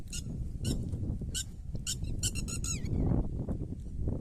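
Lapwings and pigeons call in short, sharp squeaky bursts outdoors in a village setting, somewhat distant, over a steady rumble of rushing water.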